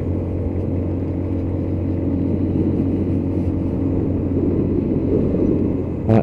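A Lexmoto Titan 125cc motorcycle cruising at a steady pace in traffic, its engine droning evenly with a constant low rumble and wind noise throughout, no speech.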